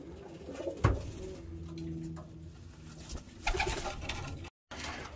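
A pigeon gives a soft, low, drawn-out coo at close range, with a few light taps and rustles around it and no voices.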